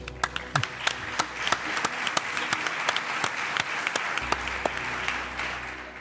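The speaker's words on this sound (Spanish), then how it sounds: "Un aplauso para él, por favor." An audience at a mystery conference in Zamora bursts into applause, steady dense clapping for several seconds with sharper individual claps standing out.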